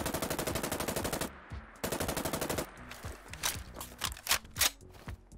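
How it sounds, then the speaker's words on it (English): A SIG MCX rifle fires rapid full-auto bursts in a modded Fallout 4 game, two fast rattling strings emptying the magazine, followed by clicking, clacking reload mechanics, loud and close with no talking. "So we'll go ahead and do a mag dump with the base version of the weapon."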